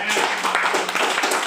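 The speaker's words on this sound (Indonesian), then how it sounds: "Boleh tepuk tangan." Hands clap together at a therapy session, a brief, dense burst of clapping at close range that holds steady throughout.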